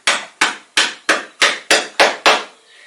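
A light hammer taps a two-part sculpture mold to free it, giving eight sharp, evenly spaced strikes, each quickly decaying, close and loud with no talk.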